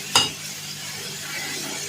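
A spoon stirs a pot of split, skinless black lentil dal (mash ki daal), giving one brief scraping clink followed by a soft, steady simmering sizzle, close by with no talking.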